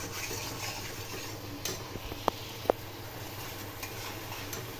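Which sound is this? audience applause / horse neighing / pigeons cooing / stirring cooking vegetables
stirring cooking vegetables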